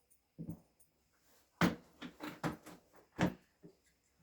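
A dog named Pepper makes a few short whimpering or yelping sounds indoors in a foyer under renovation. The sounds come in separate bursts, fairly close, with a clunk or two between them in a quiet room.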